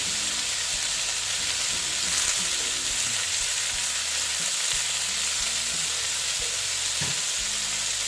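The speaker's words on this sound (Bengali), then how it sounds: "বরবটিগুলো দিয়ে এটা আমি আবার একটু ভেজে নিচ্ছি" Yardlong beans frying in a pan, a loud, dense and continuous sizzle throughout with faint irregular knocks of stirring underneath.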